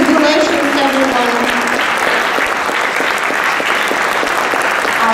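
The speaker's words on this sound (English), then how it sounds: "Let's give another round of applause to our wonderful musicians" Sustained, loud round of applause from a concert audience for student and teacher musicians after a multi-piano recital, dense steady clapping throughout with no talk over it.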